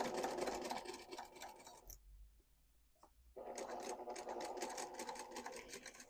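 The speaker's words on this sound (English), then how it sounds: "mine is a semi-industrial machine, and it was designed for quilting" A semi-industrial quilting sewing machine stitches a quilted cube bag in two close, steady runs of rapid whirring, separated by a pause of roughly a second and a half with a faint click.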